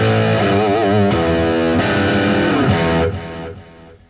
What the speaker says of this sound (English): Let me just hit a few open chords, maybe some power chords to really give you the feel of this glassy setting.